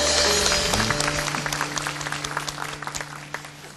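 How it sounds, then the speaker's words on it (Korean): Church congregation at a youth worship service giving a burst of applause, loud and full at first over a lingering held tone, then thinning into scattered individual claps as it fades. "이곳까지 우리를 인도하신 하나님께 영광의 박수 올립시다."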